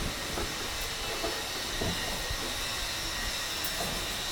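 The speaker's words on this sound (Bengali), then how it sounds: "আমি এখন গ্যাসটা জ্বালাবো" Steady broadband hiss and rushing roar of a gas stove burner being lit in a home kitchen, a continuous flame-like whoosh with faint clicks, alone without talk.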